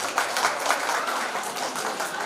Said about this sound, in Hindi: मैं चाहता हूँ फिर से ताली बजाई जाए।